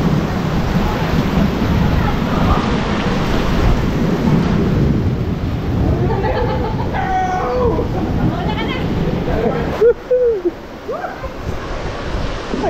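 Heavy rain pours loudly and steadily with deep rumbling thunder underneath, the downpour broad and close, while voices call out intermittently in the middle and toward the end as the noise eases slightly.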